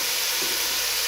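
Thin carrot slivers and onion sauté in a pan with a loud, steady sizzle and hiss that stays close and unbroken throughout, with no voices.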